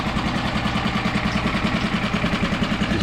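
A small boat engine on a HooDoo Hero 130 micro skiff runs steadily at idle while being flushed of salt water, a close, even low rumble with a regular pulsing throb and no talk.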